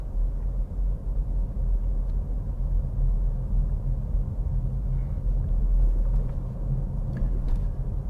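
A car travels along a wide road on a Stevenage driving-test route, its engine and tyre roar a steady, loud low rumble from inside the cabin with no talk.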